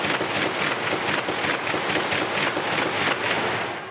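Army armoured vehicles and bulldozers clearing a protest sit-in outside a mosque, with rapid, dense gunfire crackling almost continuously for several seconds, loud and steady with repeated bursts and no voices.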